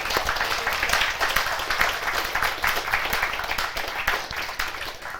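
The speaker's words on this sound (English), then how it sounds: "Please give them a round of applause." An audience at a DevOps meetup breaks into applause, a dense, steady clapping from a crowd that holds for several seconds before beginning to thin out.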